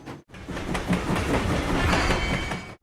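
Cartoon train rolling along rails, a steady rhythmic clickety-clack of wheels over track joints that starts after a brief pause and holds at a fairly loud, even level before cutting off.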